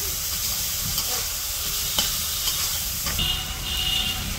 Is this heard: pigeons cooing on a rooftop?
no